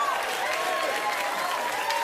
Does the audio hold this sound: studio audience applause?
yes